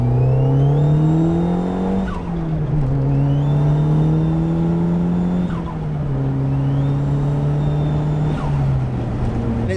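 A Nissan Pulsar GTI-R engine revs loudly and steadily close by, its pitch climbing and dropping in three surging pulls with brief dips between gear changes, a hint of tyre whine over the drone.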